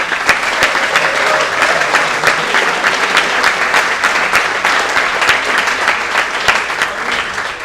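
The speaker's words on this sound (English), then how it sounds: "Give yourselves an applause." Loud, sustained applause from a large crowd at the 2014 West Virginia Boys State inauguration, many hands clapping together with a few crisp nearby claps popping out of the steady roar.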